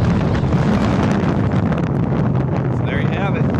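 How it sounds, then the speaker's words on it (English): Heavy wind buffets the microphone at an airfield beside an Antonov 124 cargo plane, a loud continuous low rumble with gusty surges, and faint voices mixed in. "A little windy."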